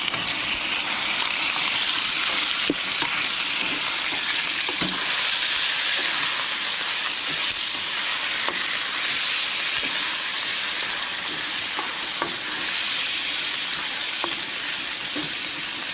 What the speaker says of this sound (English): The diced meat goes in to the frying pan full of oil.